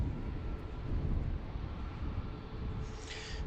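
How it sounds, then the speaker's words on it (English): An American Airlines Airbus A319 approaches the airport at Washington's DCA, its broad engine roar rumbling steadily at moderate distance without any voices. "now this American A319 is coming"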